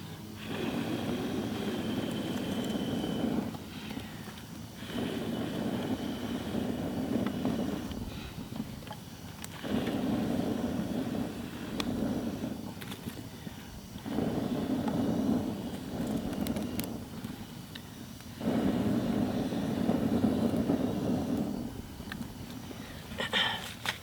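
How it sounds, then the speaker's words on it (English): Someone blows steadily into a lean-to campfire, five or six long breathy whooshes, close and moderately loud, separated by short quiet gaps, with no speech. "I'm really just blowing on it to add oxygen to the fire, because that's what kind of feeds the flame"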